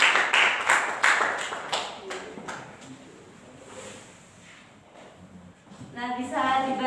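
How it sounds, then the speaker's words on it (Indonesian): A classroom audience claps for a student presenter during a micro-teaching lesson, scattered claps over a roomy background with voices murmuring and rising speech at the end. "beri tepuk tangan untuk Mbak Agnes"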